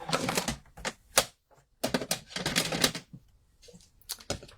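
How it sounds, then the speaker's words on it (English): Card stock being cut during card making, a run of crisp, rapid clicking and snipping bursts in several separate spells with short pauses between, close and fairly loud. "now I'll cut that one down"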